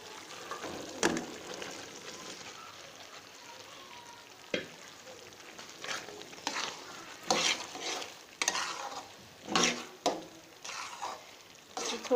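Chickpeas frying in a pan for cholay chawal, a soft steady sizzle under repeated scraping stirs of a spoon against the pan.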